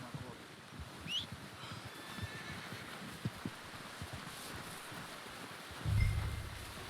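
A horse in the video game Red Dead Redemption 2 whinnies and snorts amid steady outdoor ambience, with occasional hoof clops and a louder low thump near the end.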